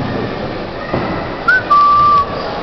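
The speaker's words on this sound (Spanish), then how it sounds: "¿Por qué silbas?" A person whistles a short rising note followed by a steady held tone, close and clear over faint background noise, with no talk.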